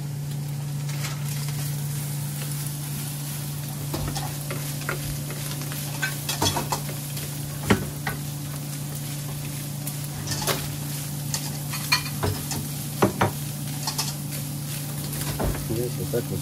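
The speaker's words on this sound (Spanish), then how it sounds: "Ya se está cocinando la carnita poco a poquito." Meat for tacos de pastor and asada cooking on a griddle, a steady sizzle with scattered clicks and scrapes over a constant low hum, with faint talk in the background.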